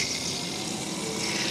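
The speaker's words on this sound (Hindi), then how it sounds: "क्या पापा यहां से पानी भर रहे हैं" Steady rush of water from the Ramganga river being filled into containers, a continuous close splashing flow with no pauses and no voices.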